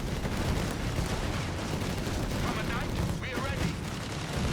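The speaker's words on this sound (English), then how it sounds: "Rifle squad there taking heavy fire there." Dense, continuous battlefield gunfire from Company of Heroes 3, Wehrmacht against US forces, as a rifle squad takes heavy fire. Rattling shots and a brief whistling streak blend into a loud, unbroken din, with a commentator talking over it.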